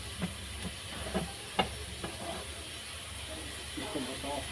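A pressure cooker cooking beef bones gives off a steady high hiss of escaping steam throughout, with scattered clicks and light clatter nearby and a voice talking over it.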